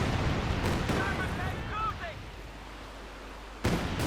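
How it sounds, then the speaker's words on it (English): Rocket artillery fire in the Company of Heroes 2 strategy game, a distant rumbling barrage of launches and impacts fading out, then a fresh loud burst near the end, with a commentator's voice over it. "Lots of rocket fire going down here, hoping to catch something."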